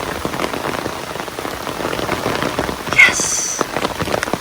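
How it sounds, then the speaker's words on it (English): Heavy rain pours onto a Dragoon Ridgeback bivy-style tent, a dense close patter of drops drumming steadily on the fabric, with a brief brighter splash partway through. "Oh, look at that rain. It is coming down."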